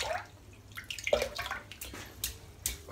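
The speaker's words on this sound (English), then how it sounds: "So let's get that dipped in the water." A wet badger-style shaving brush is dipped in a basin of water, giving a few scattered splashes and drips close by over a quiet room, with no talking.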